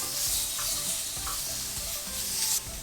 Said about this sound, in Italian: Importante mantenere sempre mescolato per evitare di bruciare.